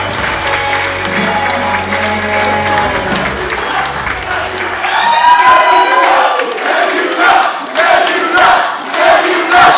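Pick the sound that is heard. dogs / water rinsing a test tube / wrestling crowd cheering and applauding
wrestling crowd cheering and applauding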